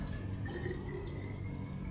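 Water pours steadily into a drinking glass for two seconds, a close, even liquid trickle with faint rising ringing tones as the glass fills, and no speech.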